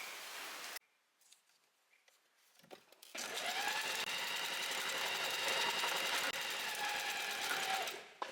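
A sewing machine stitches an elastic casing on a beginner blouse. After a brief quiet pause with light handling, a steady, fast mechanical whir runs continuously for about five seconds and then stops.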